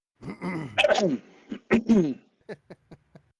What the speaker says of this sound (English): You have to clear your throat a little bit more.